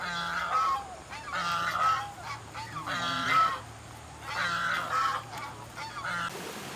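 Several geese honk repeatedly in loud, overlapping bursts, with brief pauses between the calls.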